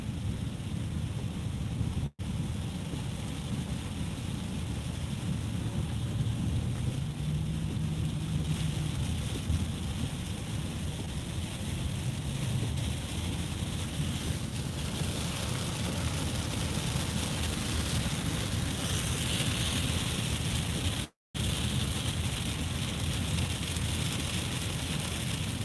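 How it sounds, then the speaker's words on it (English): Heavy rain pours down outdoors, a dense, steady hiss that stays loud and constant for the whole stretch, with two brief dropouts and no voices. "the amount of rain that's coming down right now"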